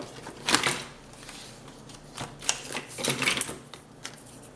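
Scissors snip through paper for scrapbooking in a few separate crisp cuts and rustles, close and fairly quiet, with short pauses between strokes and no speech.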